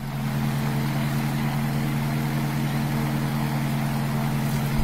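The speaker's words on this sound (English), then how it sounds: "A radial engine has a distinctive sound to it." A nine-cylinder radial piston aircraft engine turning a three-blade propeller runs at a steady pitch. It makes a loud, continuous droning rumble that holds level throughout, with no voices.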